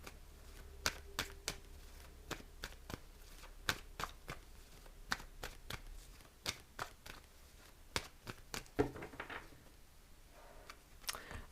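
Tarot cards being shuffled and drawn produce a quiet, close run of crisp flicks and soft snaps, irregular and spread throughout, with no voice over them.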